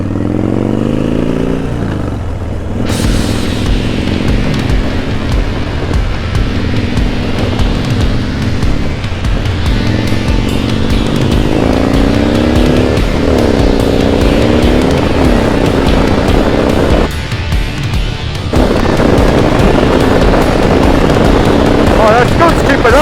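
A Harley-Davidson Dyna Street Bob with a big engine and new handlebar setup rides along, its loud, steady engine note rising and falling through gear changes, with voices talking over it.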